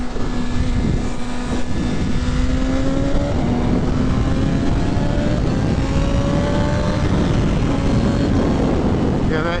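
2025 BMW S1000RR motorcycle engine held against an 8,000 RPM rev limiter, a loud steady high drone with slight pitch wavers, close and continuous amid wind roar.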